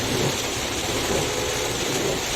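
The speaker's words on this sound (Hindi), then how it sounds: "बारिश में ड्राइविंग का एक आनंद उठाया जा रहा है।" Heavy rain pours steadily against a moving car, a loud, continuous hiss and wash of water with no breaks and no voices.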